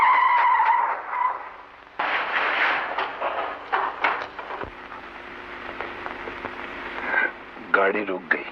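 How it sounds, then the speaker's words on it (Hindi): A car skidding to a stop in a 1956 Hindi crime film, a harsh scraping screech with rumbling engine noise, loud and near, followed by scattered clatter and voices talking. "गाड़ी रुक गई। हाँ, गाड़ी रुक गई।"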